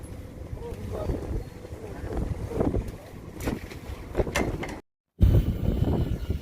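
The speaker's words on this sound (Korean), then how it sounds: "딱 바람 많이 분다" Strong winter wind buffets a fishing boat at sea off Tongyeong, a rough, gusty roar over the microphone with knocks and bumps, while people talk nearby and the sound briefly cuts out.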